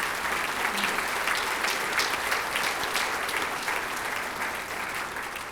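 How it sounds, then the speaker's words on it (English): A round of applause fills an auditorium during a school district's State of the District address, dense, continuous clapping from a large audience that holds steady before easing slightly at the end. "let's give you a round of applause"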